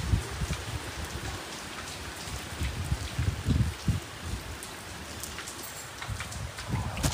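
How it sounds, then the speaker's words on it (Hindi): Steady rain pours outdoors near fields and a pond, a dense continuous hiss of drops hitting surfaces with low rumbling patter, moderately loud and constant throughout without any talking. "बारिश आज छूटने का नाम ही नहीं ले रहा"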